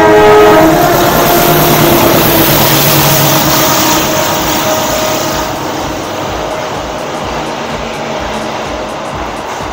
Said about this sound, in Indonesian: selingan ada kereta lewat.